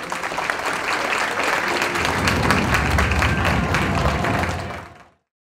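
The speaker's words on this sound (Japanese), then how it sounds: "静岡選手、松谷選手、両選手に盛大な拍手をお願いします" An arena audience at a Japanese amateur kickboxing and striking event applauds the fighters with sustained, dense clapping that swells slightly and then cuts off abruptly near the end.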